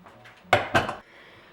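Beets tossed into a metal pot for dyeing fabric land with two clattering thuds in quick succession, close and fairly loud, followed by quiet.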